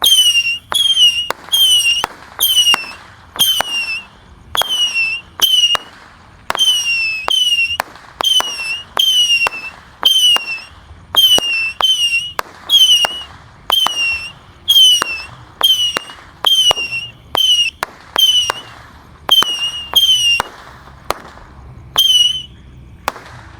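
A 25-shot missile roman candle is set off at night. It fires a rapid, steady string of about two dozen loud whistling launches, each ending in a sharp crack, with no talk over it.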